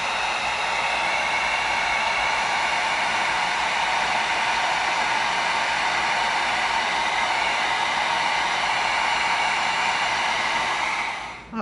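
A heat gun blows hot air onto a piece of EVA foam, a loud, steady airy roar that holds evenly close by before cutting off abruptly at the end.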